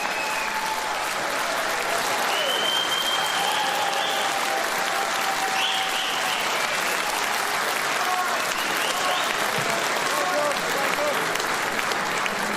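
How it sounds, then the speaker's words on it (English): A large crowd at a political rally in Sunderland, County Durham, cheers and applauds loudly and continuously, a dense roar of clapping with whistles and shouts rising above it throughout. "a crowd in Sunderland have stood up and cheered you"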